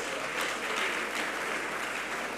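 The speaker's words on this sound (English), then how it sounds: "Please a round of applause" A seated audience at a formal event in Bayelsa State breaks into a steady wash of applause, even and fairly loud throughout the short burst with no voices over it.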